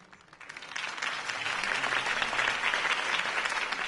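A crowd applauds after Harvey Dent's campaign speech in a Batman video game, many hands clapping together, swelling quickly from a soft start into a steady, full roar.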